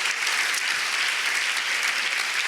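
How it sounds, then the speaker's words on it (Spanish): A church audience claps for God in a dense, continuous round of applause, steady and fairly loud for the whole stretch, with no single voice standing out. "Alguien tiene que dar un fuerte aplauso a Dios por eso"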